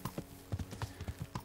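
Horse hooves clip-clop in the video game Kingdom Come: Deliverance, a steady run of about nine even hoofbeats at walking pace, close and distinct with no voices.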